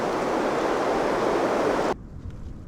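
Strong late-season wind gusting to about 40 mph roars steadily across the microphone as a dense, rushing noise, then cuts off abruptly, leaving a quieter rumble of gusts.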